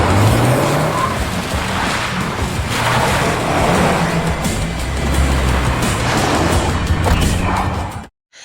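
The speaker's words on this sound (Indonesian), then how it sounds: "Sedangkan mobil nomor 2 menyalakan turbonya." Race car in a film scene with its turbo boost engaged, engine roaring loud and continuous over screeching, skidding tires for about eight seconds before cutting to silence.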